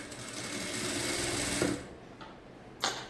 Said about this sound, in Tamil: அடியில் ஒரு பீஸ் மேலே ஒரு பீஸ் ஒன்றா வச்சு தான் ஸ்டிச் பண்ணணும்